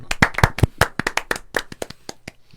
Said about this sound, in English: Let's all clap at the same Sure. time.